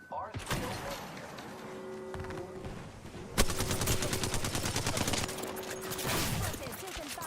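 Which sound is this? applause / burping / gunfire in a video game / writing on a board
gunfire in a video game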